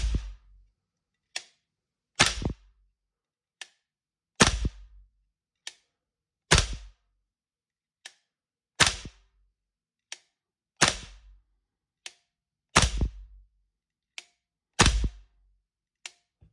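A Toxicant MCX Spear LT CAG CSAW 10.5 airsoft rifle: sharp, close, loud shots spaced about two seconds apart, each paired with a softer trigger-reset click between, in a quiet room.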